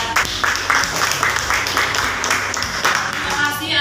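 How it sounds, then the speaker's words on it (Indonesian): Students clap together in a classroom during a peer-teaching lesson on global warming, producing loud, rhythmic bursts of applause with voices mixed in. "Baik, kita berikan aplaus kepada"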